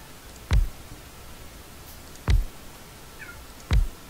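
Three short sharp sounds come at roughly even intervals, each clear and fairly loud over a quiet background. They fit a cat meowing nearby, and nobody speaks.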